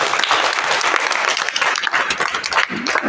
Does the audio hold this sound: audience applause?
yes